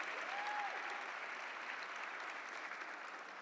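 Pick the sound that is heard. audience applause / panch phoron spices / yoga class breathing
audience applause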